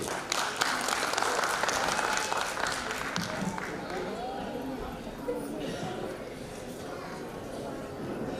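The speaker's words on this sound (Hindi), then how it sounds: "तो एक बार जोरदार तालियां हमारी युवा पीढ़ी के लिए।" An audience at a corps day celebration claps loudly for a youth dance performance. The dense applause is strongest at first, then thins, with voices and crowd chatter mixed in throughout.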